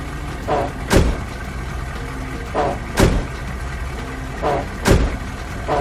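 A cartoon emergency vehicle engine in a kids' vehicle app game, heard as three evenly spaced revving bursts of a few seconds each, clear and close with no talk.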